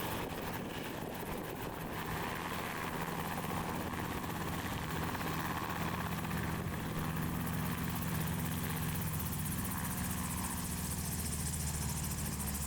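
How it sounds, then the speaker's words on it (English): A helicopter lands beside the Snake River in Hells Canyon, its rotor thrum and engine whine distant and faint, holding a steady continuous drone throughout with no one speaking. "Nothing better than taking a 5-mile hike to watch a helicopter land."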